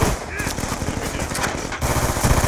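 Rapid automatic gunfire in Call of Duty Black Ops 2 crackles in a dense, sustained burst, briefly dropping off near the end before the rattling shots resume loudly, with no talk over it.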